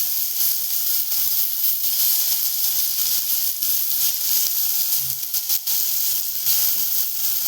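Onion and tomato sauté together in a pan for a tondli and val vegetable dish, giving a loud, steady sizzling hiss up close, with faint stirring scrapes now and then.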